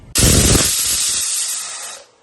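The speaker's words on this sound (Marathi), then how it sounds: "आता एक शिट्टी झालेली आहे" A loud, sustained hissing whistle of steam bursting from a pressure cooker boiling baby potatoes, steady for about two seconds before cutting off.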